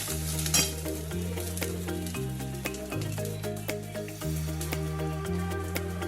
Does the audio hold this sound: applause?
no